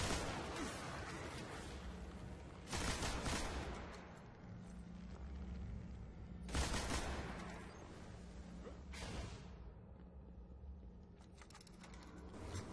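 Heavy machine gun from Crota's End in Destiny fires in several sustained bursts with short pauses between them, loud and dense over a low background rumble.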